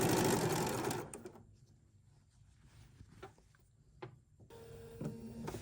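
A Bernina sewing machine stitches quilt squares, its motor whirring loudly at first, then pausing amid soft handling clicks and taps before the mechanism runs again near the end.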